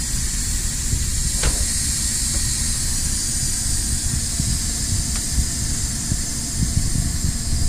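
Steady, loud hiss of a pressure cooker venting steam after cooking pork, a continuous broadband rush running unbroken the whole time with no talk over it.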